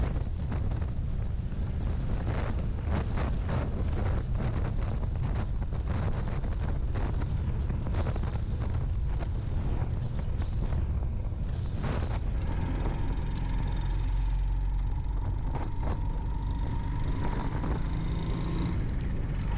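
A modest-speed motorcycle cruises along a road between Buenos Aires and Punta del Este, its engine drone buried under steady, loud wind buffeting the microphone for the whole stretch.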